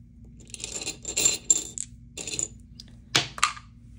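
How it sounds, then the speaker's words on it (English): Dice rattle and clatter onto a hard surface, with several bursts of tumbling clicks over a few seconds, close and fairly crisp, played in a savings challenge game. "this one is roll the dice and save that amount"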